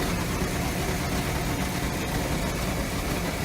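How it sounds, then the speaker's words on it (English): A boat's engine runs quietly at idle, giving a steady, even rumble with no change in pace throughout the short stretch. "why is the engine so freaking quiet?"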